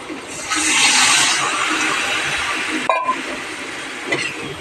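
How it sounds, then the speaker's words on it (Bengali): Water pours into a pan of fried spice paste, a broad rushing, splashing hiss that swells early and runs steadily for several seconds, with a brief clink of a vessel near the end. "এবার এর মধ্যে জল ঢেলে দেব।"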